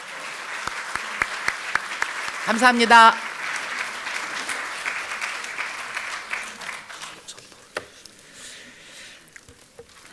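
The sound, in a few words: applause for Park Byeong-seok and Kim Sang-hee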